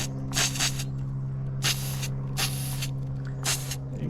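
Four bursts of metallic spray paint hiss from an aerosol can onto a sheet of paper hung up as a test card, each spray lasting under half a second, close and loud over a steady low hum.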